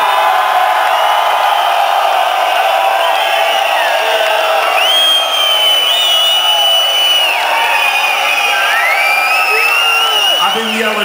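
A live concert crowd at a show in Ljubljana, Slovenia cheers loudly and continuously, with whoops and shouts rising over a dense wall of voices.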